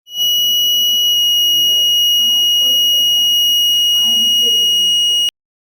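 Buzzer on a cotton moisture detector sounds a continuous high-pitched electronic tone for about five seconds before cutting off abruptly, with faint speech murmuring underneath.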